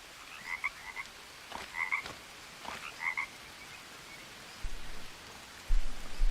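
Frogs croak in the jungle of the survival video game Green Hell, a few sharp, widely spaced calls at moderate distance, followed by light patter like rain near the end, with no speech.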